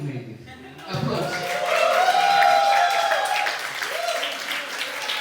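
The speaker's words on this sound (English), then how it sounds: "Applause." An audience at a live stand-up comedy show in Mumbai breaks into applause, a dense swell of clapping that rises, holds for a few seconds and then eases off, with a little chuckling mixed in.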